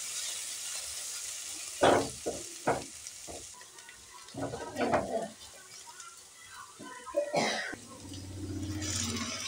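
A spoon stirs turmeric and chili powder into a potato and poppy seed curry (aloo posto) in a pan. Quiet scraping strokes come in short bursts over a soft sizzle, close to the microphone.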